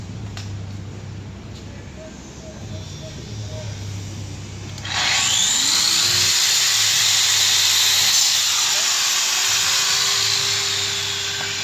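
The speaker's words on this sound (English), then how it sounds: "I'm just going to kiss the concrete real quick without the shroud on it so you can see the amount of dust." A power saw is held off for several seconds, then cuts briefly into concrete with no dust shroud fitted, giving a sudden loud, sustained grinding whine that stays steady until the end.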